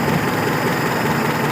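A car engine with a carburetor runs steadily at moderate RPM, a continuous close rumbling hum with no clear rise in revs and no talking over it.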